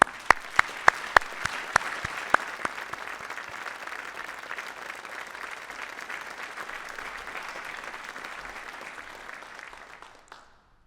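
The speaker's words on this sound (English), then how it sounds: "So let's give them a round of applause." An audience at a Medal of Honor Hall of Heroes induction ceremony claps for about ten seconds. A few sharp, close individual claps come first, then a sustained even round of applause that fades out at the end.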